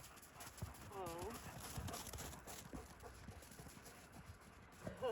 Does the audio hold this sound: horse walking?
yes